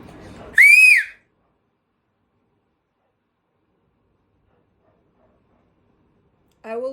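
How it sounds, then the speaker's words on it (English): A single loud, high rising-then-falling whistle by a person rings out near the start, then long silence, with a brief voice at the very end. "I will whistle again. Cover your ears."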